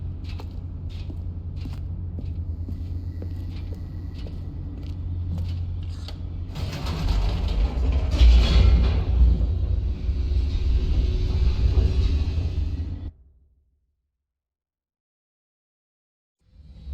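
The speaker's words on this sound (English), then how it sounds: "The elevator raced downward, plummeting towards an unknown fate." An elevator in The Stanley Parable descends, beginning with a low mechanical hum and creaks, then swelling into a loud rumbling, grinding roar for several seconds before cutting abruptly to silence.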